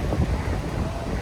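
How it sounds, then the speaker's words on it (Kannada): Rough sea waves crash on a beach in a steady broadband roar, with gusting wind buffeting the microphone close up and no voices. "ನಿಮಗೆ ಕೇಳಿಸ್ತಾ ಇದೆಯಾ ಸಮುದ್ರದ ಅಲೆಗಳು ಹೆಂಗೆ ಹೊಡಿತಾ ಇದೆ ಅಂತ"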